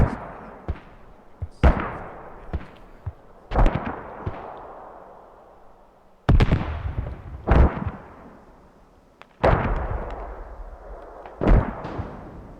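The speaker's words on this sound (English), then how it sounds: "There's a rocket." Rocket explosions in the Squad video game boom out one after another, each a sharp loud blast followed by a long rumbling decay, spaced irregularly over about a dozen seconds.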